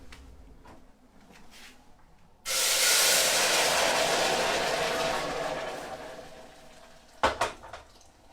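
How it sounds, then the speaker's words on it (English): Water for homemade gnocchi rolls at a boil in a kitchen pot, a sudden steady hissing roar that holds for several seconds before easing, followed by a couple of sharp clinks like a utensil against the pot. "And there's your boiling water in there."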